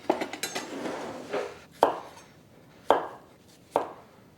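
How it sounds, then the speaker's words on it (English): A knife cuts thin slices of English cucumber on a wooden board, giving a few soft chops at first and then three sharp, well-spaced cuts, close and clear with no voices. "Trying to do very thin slices."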